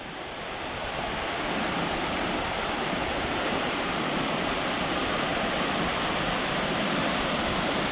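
Steady roar of a waterfall on the east side of the Olympic Peninsula, running low, heard up close as a dense, even rush of falling water with no voices, holding constant for the whole stretch.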